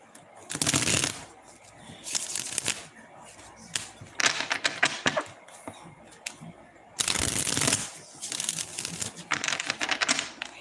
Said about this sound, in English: I love my fairy deck. That's why I'm still shuffling